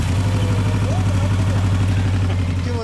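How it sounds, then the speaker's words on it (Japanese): A motorcycle engine idles close by with a steady, low, throbbing rumble, and a faint voice can be heard underneath. "エンジン音聞かせて"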